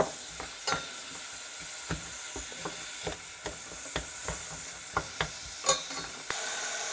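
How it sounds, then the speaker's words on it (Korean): Meat and minced garlic stir-fry in a pan for Korean rice cake soup, a soft continuous sizzle broken by repeated clicks and scrapes of a utensil stirring, close and fairly quiet. "어느 정도 고기가 볶아지면 그리고 다진 마늘 조금 넣고 다시 볶아줄게요."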